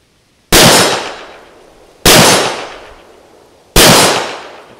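Three loud, sharp reports from a Luger LP08 pistol, evenly spaced about one and a half seconds apart, each ringing out with a long decaying echo and no talk.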